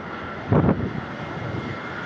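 A fixed-wing airplane coming in to land passes overhead with a broad, steady engine roar that swells briefly near the middle, then settles into a continuous distant drone.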